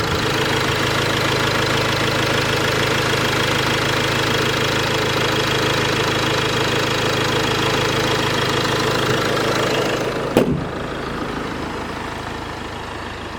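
A Land Rover Discovery Sport 2.0 TD4 turbo diesel idles with a steady, slightly knocking rumble, close and loud, before a thump near the end leaves a quieter hum.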